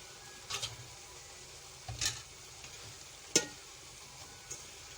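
Spinach stirred into liver and tomatoes frying in a pan for kalaiji palak, with a few scattered stirring scrapes and soft sizzling at low level and no talk.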